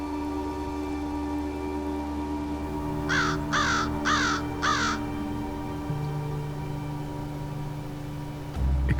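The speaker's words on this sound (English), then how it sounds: "the American crow revealed itself to him, perched atop of a lone spruce, calling into the wind." An American crow perched atop a lone spruce gives four evenly spaced harsh caws in quick succession, moderately near, over steady rain-like background noise and a low hum.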